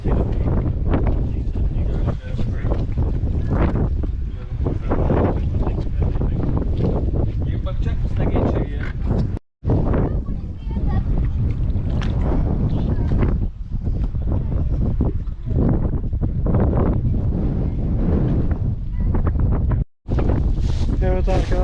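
Strong north wind on a sailing holiday near Motuarohia Island buffets the microphone in continuous low roaring gusts, with a couple of brief dropouts and some talking mixed in.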